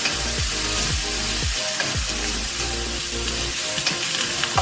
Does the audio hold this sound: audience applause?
no